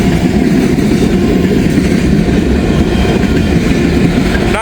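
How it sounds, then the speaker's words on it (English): A train rolls past, a loud, steady rumble of wheels and cars filling the whole stretch without a break, close by and with no voices. "Not sure what train this is."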